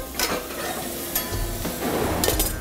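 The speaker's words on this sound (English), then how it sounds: "Our bourbon bacon gravy will reduce for just a second." Bourbon bacon gravy reducing in a pan gives a continuous soft sizzle and bubbling, broken by a few brief clinks and stirring scrapes of utensils, close and with no talk.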